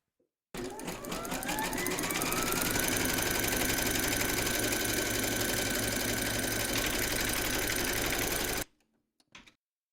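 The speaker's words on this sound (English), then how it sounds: "Pop your hoop into your machine and stitch round number 2 to secure it." An embroidery machine stitches through batting held in a hoop, a loud steady rapid needle chatter running without pause for about eight seconds before stopping abruptly, followed by a few faint clicks.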